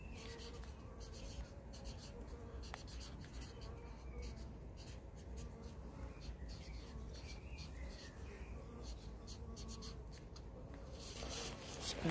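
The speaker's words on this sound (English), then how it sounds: "I can write on this pot." A pen scratching steadily across the surface of a plant pot at close range, with soft rubbing strokes and birds chirping faintly outdoors in the background.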